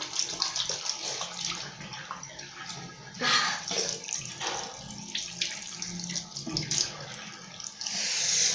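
Cold water runs steadily from a shower tap, a continuous broadband spray that stays loud and close throughout, with faint gasps or exclamations from a person underneath.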